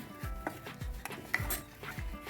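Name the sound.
stirring beef curry in a cooking pot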